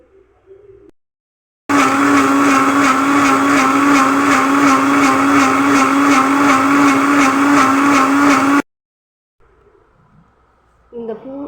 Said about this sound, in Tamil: தண்ணி நான் ஊற்றிட்டேன் மிக்ஸி ஜாரில். இப்போ அரைப்போம்.